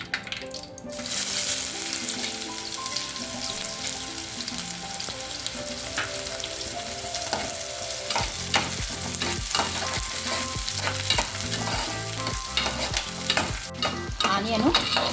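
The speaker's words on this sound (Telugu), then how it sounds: "ఇవి ఫ్రై అయినాయండి ఆనియన్ వేసేస్తాం" Onions frying in a pan for a non-veg curry, with a loud continuous sizzle and repeated scraping of a spoon stirring against the pan, growing busier toward the end.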